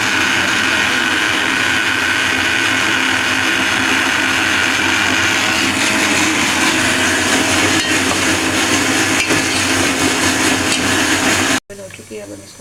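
Loud, steady whirring of an electric machine processing spinach for a dhaba-style chicken palak, running continuously before cutting off abruptly near the end.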